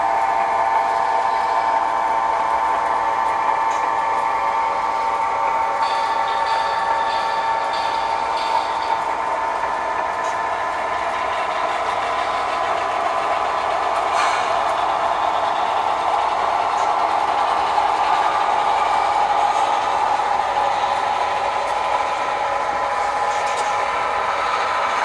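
Model train locomotive idling and running on a KCS layout built as the Flying Crow, a steady continuous mechanical hum with faint clicks, alone and without talk.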